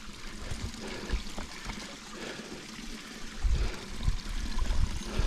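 A slow mountain stream on Burke Mountain, British Columbia, trickles and gurgles steadily nearby, swelling into fuller splashing pulses toward the end.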